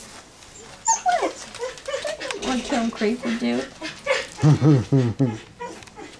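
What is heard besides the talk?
puppies whimpering and yipping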